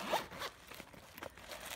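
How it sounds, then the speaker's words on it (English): Quick rasping zip strokes from a smooth zipper on a plastic Dior Rouge lipstick pouch, heard up close in a few short pulls with no talking. "it's got also smooth zippers."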